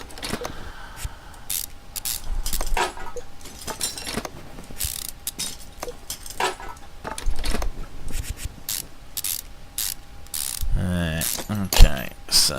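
A socket wrench ratchets in the Car Mechanic Simulator 2015 game, giving bursts of quick clicking, fairly loud and close, with mechanical clinks between the runs and a brief voice near the end.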